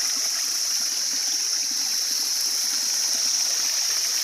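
Water gushes steadily from a tampered drinking-water pipe, a continuous close, loud broadband rush with no pauses and no talking.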